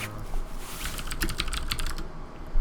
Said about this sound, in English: If the clicking of the keys is like really annoying to you, let me know in the comments